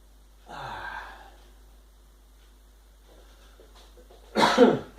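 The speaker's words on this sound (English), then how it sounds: "Something of a cough today." A single cough close up after a soft breathy sound and some quiet, faint background noise.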